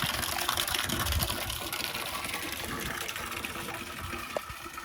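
Water drains out of a roughly 300-gallon tank in a steady, loud gushing rush that holds for several seconds with only slight fading. No one speaks over it.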